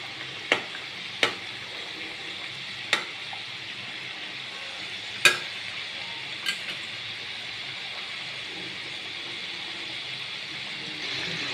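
Gujiya pastries deep-frying in hot oil, a steady broad sizzle throughout with a few sharp clicks and knocks from a utensil, no voices.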